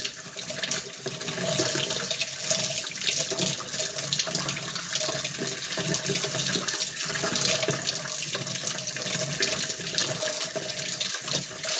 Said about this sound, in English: you're going to turn on the water